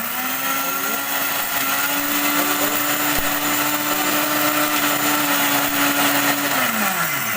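An electric mixer grinder whirs loudly while grinding turmeric into fine powder, a steady high motor whine holding for several seconds before the pitch drops as it spins down, with no talk.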